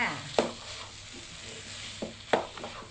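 Pork filling being stir-fried in a pan, with a soft continuous sizzle and a few sharp scraping strokes of the utensil, close and moderately quiet.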